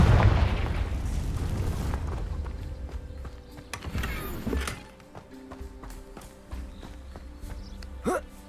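A Confringo blasting spell explodes in Hogwarts Legacy inside a ruined place, opening with a loud, rumbling burst that fades into crumbling debris, scattered thuds and faint ambient tones.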